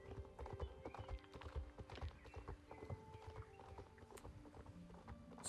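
Horse hooves clip-clop at a steady walking rhythm while riding toward town in the video game Star Stable, close and moderately quiet throughout with faint background game sounds.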